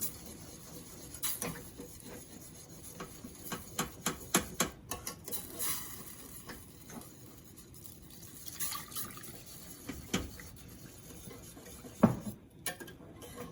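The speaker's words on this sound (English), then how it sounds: "This is actually a roux whisk." Whisk wires scrape and clink against a pot while a creamy chicken soup base is stirred, producing faint, irregular metallic taps and swishes with occasional louder knocks.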